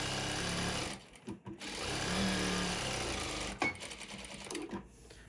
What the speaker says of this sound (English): I'm going to come along and stitch the other side of the line.